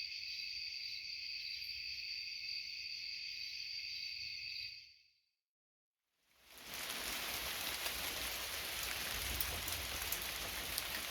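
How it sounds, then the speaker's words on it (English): Steady rain from an incoming storm hisses loudly and evenly after a brief silent gap, following a stretch of high-pitched insect or cricket chirring. "I have rain."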